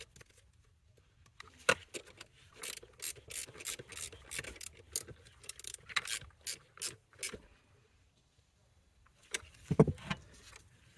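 Ratchet wrench tightening the negative battery terminal on an Audi Q7, a series of short, close mechanical clicking bursts in quick groups, with pauses between them.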